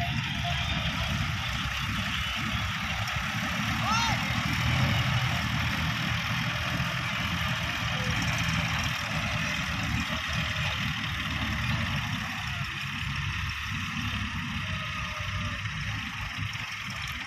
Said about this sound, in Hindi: ट्रैक्टर ओनली दो टायरों पे खड़ा होकर आ रहा है।